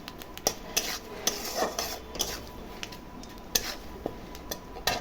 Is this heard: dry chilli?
yes